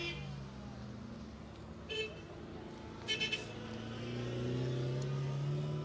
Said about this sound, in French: j'espère que vous m'entendez encore avec tous ces klaxons et ces bruits de moteur